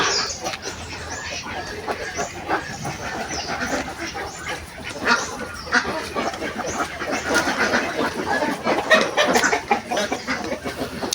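A flock of young ducks that are not yet laying quacks and chatters continuously at a duck farm, dense and fairly close, with a voice mixed in now and then.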